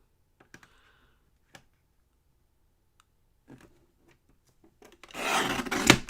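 Scissors trimming a recycled greeting card: a few faint isolated snips and taps, then a louder close rasping cut near the end, with no talk.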